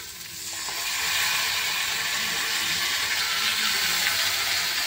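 Ginger, garlic and green chili paste fries in hot spiced oil, a close, loud, continuous sizzle that swells within the first second and then stays steady and hissing without any talking.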